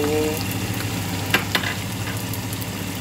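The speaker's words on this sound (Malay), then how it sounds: "masak simple je pasta goreng macam ni ada tuna" Steady frying sizzle of pasta with tuna and tomato in a pan, with a low hum underneath and a couple of sharp clinks partway through, no voices.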